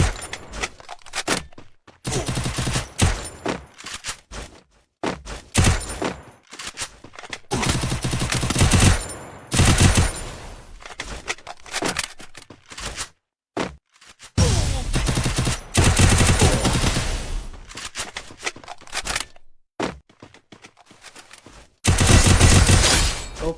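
Gunfire in a shooter video game, repeated loud bursts of rapid automatic shots broken by short silences across the whole stretch, close and dominant with no talking.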